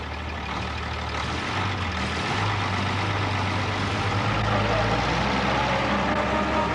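A heavy vehicle engine labours and drones steadily throughout while driving through sand on a 1977 overland hippie-trail journey to Kathmandu, a continuous loud, rumbling strain with no speech.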